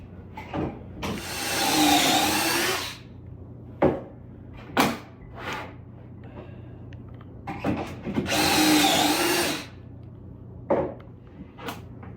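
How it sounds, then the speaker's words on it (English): Pocket holes are drilled into wood for floating nightstands with drawers: two loud whirring drill bursts of a couple of seconds each, separated by clicks and knocks of handling boards and the jig, no voices. "Pocketing the bottoms is what we're doing here"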